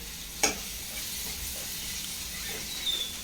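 Liver sautéing in a pan with onion, tomato, cinnamon and cloves, a steady soft sizzle with a couple of brief stirring knocks, fairly quiet and close, no talking.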